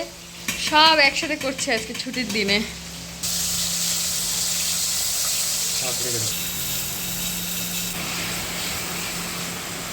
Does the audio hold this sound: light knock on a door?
no